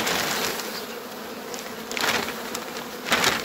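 Honeybees swarm around wooden frames pulled from an open beehive during a beekeeping inspection, giving a steady, close buzz that swells in two louder bursts as the insects lift off.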